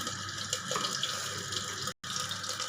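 Water running steadily from a tap into a chili sauce bottle, a continuous splashing flow with one very brief break, close and moderately loud.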